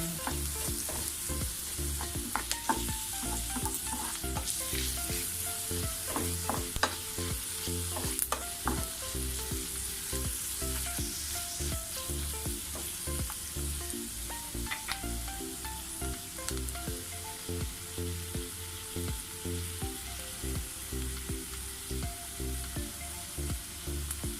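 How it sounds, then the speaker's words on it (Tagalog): Sotanghon seasoning with ground pepper, iodized salt and carrot fries in a pan, a steady sizzle broken by repeated scraping and clinking strokes of a utensil stirring, close and continuous without talk. "Naglagay na ako ng pamintang durog, iodized salt, haluin lang natin"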